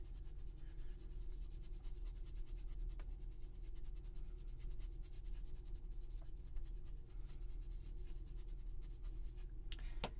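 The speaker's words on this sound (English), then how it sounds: "line up this larger stencil with the largest die cut, and just go ahead and sponge that with some ink" Ink is sponged onto paper through a pinwheel stencil lined up over a die cut, making a continuous soft scrubbing and dabbing sound close by.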